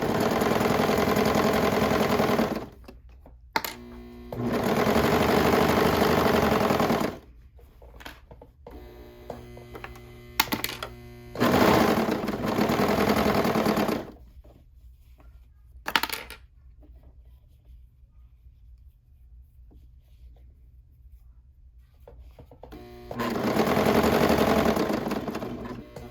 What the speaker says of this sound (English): I'm going to go ahead and serge it together at 3/8 inch seam allowance.